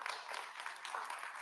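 Brief, faint audience clapping at a Ghana Independence Day teaching artist event, a soft patter of scattered hands lasting only a moment.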